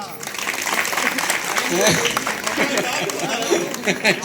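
Audience claps at a school business exhibition, with dense, continuous clapping from a nearby crowd mixed with chatter and voices throughout.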